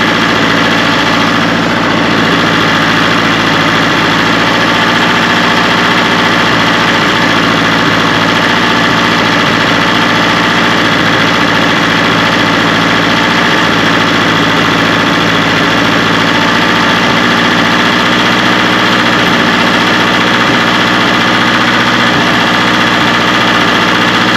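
A newly installed car engine idles steadily and fairly loud, with oil boiling off it, its even mid-low drone and faint vibration holding unchanged throughout with no voices.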